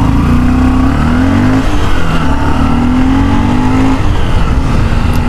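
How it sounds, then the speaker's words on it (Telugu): A motorcycle, its chain freshly sprayed, revs hard and climbs through the gears, a loud close engine drone rising in pitch in repeated sweeps with no speech. "సో గైస్ మన చైన్ కి స్ప్రే కొట్టిన తర్వాత ఒకసారి బైక్ పికప్ చూడండి, నెక్స్ట్ లెవెల్ ఉంటుంది"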